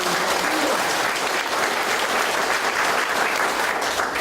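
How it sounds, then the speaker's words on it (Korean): A large crowd at a mayoral campaign rally in Suncheon, Korea, claps loudly and continuously, a thick unbroken roar of applause sustained evenly from start to finish. "좋으신 말씀을 해주신 우리 노광규 회장님께 다시 한번 큰 박수 부탁드립니다."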